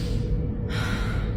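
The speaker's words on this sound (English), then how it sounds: "take a deep breath, right?" One long, close, breathy inhale of a deep breath, a soft rushing air sound over a low room rumble.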